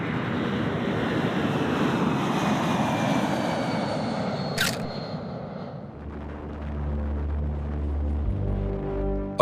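Engines of a large military transport aircraft, a Boeing C-17 Globemaster, give a continuous loud roar that settles into a deep, droning rumble partway through, with no voices.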